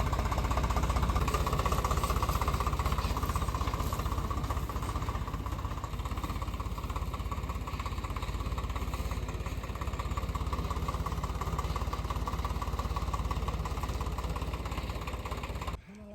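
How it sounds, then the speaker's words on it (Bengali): A engine-driven threshing machine for separating lentil grains from the plants runs with a loud, steady chugging drone, outdoors and close, then cuts off abruptly at the end. "ওই যে দেখো মেশিনটা চলে এসেছে এই মেশিনেই কলাইয়ের দানাগুলো বের করা হবে"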